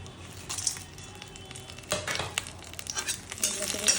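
Bay leaf, whole cardamom, cloves and cinnamon fry in ghee in a wok, a close sizzle punctuated by several short, scraping stirring bursts.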